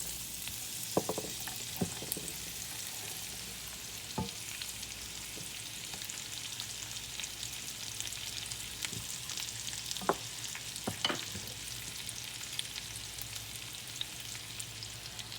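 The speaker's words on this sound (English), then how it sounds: "our oil's good and hot. So we're going to go ahead and start adding our squash" Summer squash and onion fry in hot oil, giving a steady close sizzle that lasts throughout, broken by occasional sharp pops and spoon clicks from stirring, with no talking.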